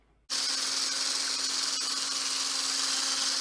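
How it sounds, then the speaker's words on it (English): An electric whisk whips cream for Christmas-morning pancakes, starting abruptly and then running as a steady, close, high-pitched motor whir with a constant hum. "we're going to get out our whisk. So use the electric one for this one"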